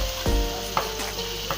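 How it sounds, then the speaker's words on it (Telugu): Bitter gourd with masala paste fries in a pan with a close, steady sizzle, broken by a few light scrapes of stirring. "ఇప్పుడు ఈ మసాలా ముద్దలు వేసుకొని బాగా ఫ్రై చేసుకోవాలి."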